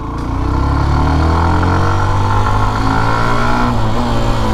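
A Hero Xtreme 125R, a 125 cc motorcycle, hums steadily on a test ride, its engine tone close and loud and rising slightly as it accelerates, with wind noise and no talking.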